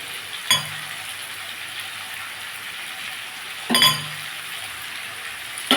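Potato and pumpkin fry in a pan, giving a steady soft sizzle with a broadband hiss, broken twice by brief louder clatters of stirring.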